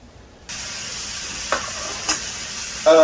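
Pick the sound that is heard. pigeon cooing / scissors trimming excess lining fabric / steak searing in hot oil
steak searing in hot oil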